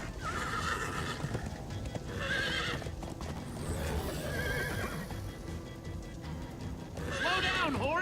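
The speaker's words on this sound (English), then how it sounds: "Slow down, horse!" Horses gallop with rapid clip-clop hooves and repeated whinnies in Minecraft: Story Mode, loud and continuous, with other game sounds mixed in.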